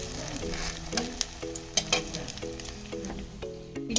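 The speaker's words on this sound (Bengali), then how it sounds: "এই যে কড়াই একটু তেল দিয়ে এবারে পিঠাটা একটু ভাজতে হবে।" Patishapta pitha fries in oil in a wok, giving a steady close sizzle broken by occasional scrapes and clinks as it is turned.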